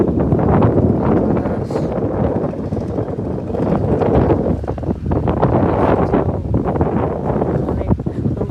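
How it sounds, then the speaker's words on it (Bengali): Strong wind blows outdoors near Saidpur, buffeting the microphone with a loud, unbroken rush and roar that lasts throughout. "প্রচুর বাতাস।"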